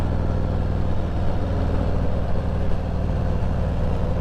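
A big, heavy motorcycle engine droning steadily while riding twisty roads, a continuous close low rumble with no pauses.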